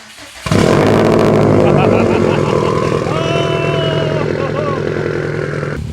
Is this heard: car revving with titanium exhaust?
yes